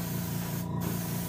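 Steady, close hiss of an aerosol basecoat sealer being sprayed onto a taxidermy rock bass, a continuous even spray with a brief break near the middle.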